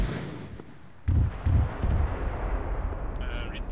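Artillery fire for effect strikes a position in a military game scenario, with several deep, muffled booms in quick succession at a distance, followed by a lingering low rumble.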